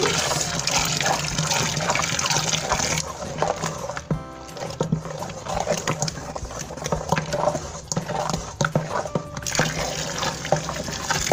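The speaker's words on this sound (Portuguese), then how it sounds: "eu acho que eu vou precisar de pôr mais água. Mais 2 litros." Roughly two litres of water poured into a thick batch of homemade sunflower-oil liquid laundry soap, a steady close rushing and splashing that runs the whole time, shifting in tone midway, with no talking.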